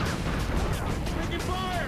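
Gunfire and explosions in a PlayStation video game demo form a dense, continuous battle roar with heavy booms under it, loud and close, while game dialogue sounds faintly in the mix.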